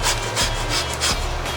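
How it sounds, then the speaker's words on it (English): A handsaw cuts through pig ribs during butchery into primals: loud, close rasping strokes in a steady back-and-forth rhythm, about four strokes, with no talking. "when you can't cut anymore, with the knife, you're going to use the handsaw"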